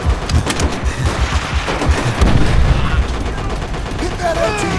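Rapid machine gun bursts in Call of Duty: World at War, loud and close, mixed with other gunfire and battle noise while soldiers shout over it.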